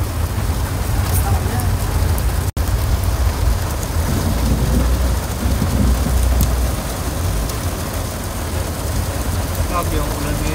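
Steady heavy rain pours down during a trip through a flooded area, a continuous broadband hiss with low rumble, likely from rain on a vehicle, lasting throughout with a brief dropout near the start; people talk over it.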